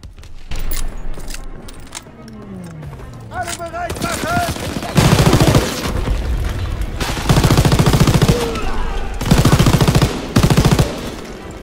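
Bursts of rapid gunfire in Call of Duty: WWII, several automatic volleys spaced apart, with a voice talking in between.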